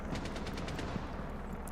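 Gunfire in a Rainbow Six Siege esports match, a secondary shotgun in play, comes as a quick run of faint, distant popping shots in rapid succession, low in the mix.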